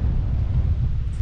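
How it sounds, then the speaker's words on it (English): Steady wind rumbles across the microphone on a British Columbia golf course, a dense low roar that stays constant and close for a brief moment. "It's a little windy."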